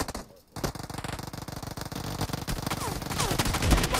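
Rapid bursts of automatic gunfire from the mobile battle royale game PUBG Mobile, dense repeated shots close and loud after a brief quiet start, with some overlapping game sound.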